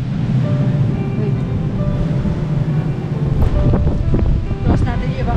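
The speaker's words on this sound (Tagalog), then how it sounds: "Ayun na, lakas ang hangin na." Strong, steady wind of a winter storm in Canada roaring across the microphone, a constant rushing buffeting with gusty rumble and no clear voices.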